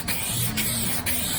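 An aerosol can sprays etch primer onto the body of a Mk3 Ford Cortina under restoration, a close, steady hiss in three sustained passes split by brief pauses.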